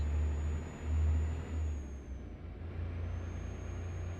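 A Freightliner Cascadia truck of about 520 horsepower and 1,800 pound-feet of torque, driven in American Truck Simulator, hums with a steady low engine drone that swells briefly, under a faint high whine, with no talk.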